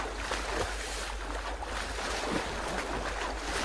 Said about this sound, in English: I can't hear you. The water's too loud.